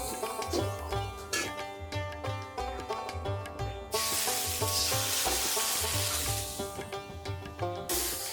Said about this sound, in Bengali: এই মশলাটা এখন কষামো